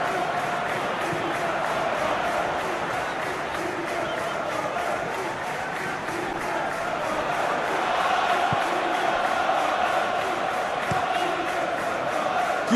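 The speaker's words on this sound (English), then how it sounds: "Crowd appreciates good football all round there" A football crowd at Arsenal versus Aston Villa in the English Premier League fills the stadium with a steady, dense roar that swells slightly late on, continuous and even throughout.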